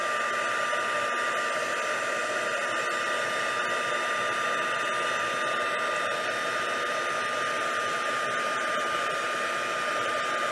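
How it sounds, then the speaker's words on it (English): A heat gun blows steadily close by, melting clear embossing powder on silver foil sheets, a constant loud fan roar with a whining motor tone, uninterrupted and without talking. "So now we're going to heat this through."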